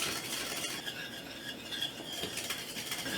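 A whisk scrapes steadily in a pot of hot, boiling banana cream pie filling on the stove, a continuous soft rhythmic stirring with light metallic clatter.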